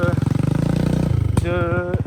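A 125cc dirt bike with a Scout four-stroke engine revs up close and loud in a short, throbbing burst, its pitch rising steadily as it accelerates.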